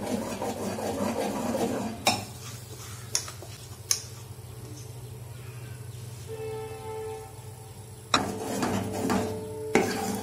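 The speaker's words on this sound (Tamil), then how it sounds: "போடும்போதே நல்லா கிளறி விட்டுகிட்டே ஊற்றணும் மாவு" A spoon stirs urad dal flour porridge in a pot, giving soft scraping and occasional sharp knocks against the metal over a low, steady background, with no talking.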